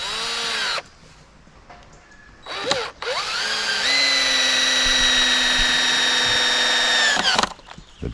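Power drill driving screws into a wooden cabin end wall: short bursts of high whining motor, then one long steady run with the pitch rising as the screw seats, close and loud, separated by quiet pauses.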